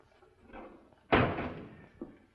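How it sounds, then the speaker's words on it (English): A heavy wooden door slams shut with one loud, booming thud in an old Western ranch setting, preceded by faint shuffling and followed by a softer knock as it settles, no talking. "Hey, careful of that door."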